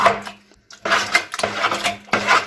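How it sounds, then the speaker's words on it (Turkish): A spoon scrapes and knocks around a pot of tarhana mixture in rhythmic strokes, close and moderately loud, with brief pauses between stirs. "Şimdi tahranamızı ara sıra böyle karıştırıyoruz"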